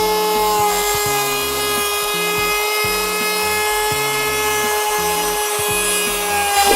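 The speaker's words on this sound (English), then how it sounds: "I've got an 1/8 of an inch round over bit chucked up in my trim router, and we'll just run that around the edges" Trim router fitted with an eighth-inch round-over bit, cutting along the edges of small wooden serving boards, a loud steady whine running throughout, with no talk.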